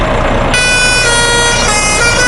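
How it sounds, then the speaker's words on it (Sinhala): The third bus horn in the video game Ceylon Bus Simulator blares as a loud, sustained, brassy horn tone lasting about two seconds, with no talk. "ඊට දැන් අපි චෙක් කරමු තුන්වෙනි හෝන් එක"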